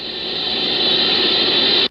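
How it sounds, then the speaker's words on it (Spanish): Constant hiss of background interference picked up by a horn antenna radio telescope, a steady broad wash of static with a high-pitched edge, loud and unchanging for nearly two seconds before cutting off abruptly. "Pero la Horn Antenna que utilizan recibe constantes interferencias."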